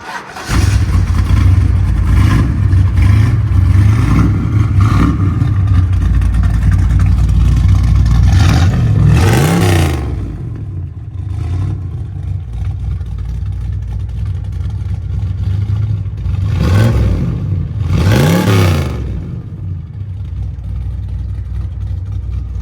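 A Ford Fairlane's engine fires up and settles into a loud, steady idle, then is revved hard several times with rising and falling roars, recorded close up at night with no talk.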